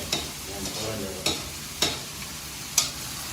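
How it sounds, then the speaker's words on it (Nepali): Onions frying in a pan for chicken curry, a soft steady sizzle broken by four sharp scraping stirs spaced about a second apart, close and fairly quiet with no talking. "प्याज हाम्रो राम्रोसँग भुटिँदैछ।"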